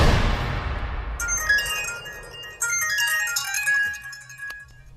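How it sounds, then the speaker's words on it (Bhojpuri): A mobile phone rings with an incoming call, playing a melodic electronic ringtone that repeats loudly and close by over a faint low hum. No one speaks. "फोन घर के नंबर से।"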